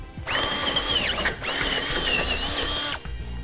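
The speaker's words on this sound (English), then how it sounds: "For the passenger side, we're gonna drill out our next attachment point." A power drill whines loudly and continuously nearby, pitch wavering under load as it drills out a base plate attachment point on a 2014 Ford Fiesta, with a brief dip in the middle before running on and stopping.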